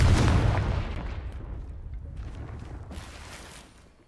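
Confringo fire-spell explosion in Hogwarts Legacy, a loud burst at the start that rumbles and fades over several seconds, heard alone.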